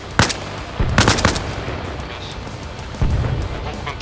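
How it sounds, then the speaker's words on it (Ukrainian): Bursts of rapid gunfire in the video game Arma Reforger crackle amid a noisy background, loud and close, with several separate volleys over a few seconds. "Я стріляв, я стріляв."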